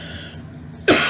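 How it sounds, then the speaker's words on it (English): A single sharp cough bursts out near the end after a quiet stretch, loud and close, with no speech around it. "I know the cough was coming."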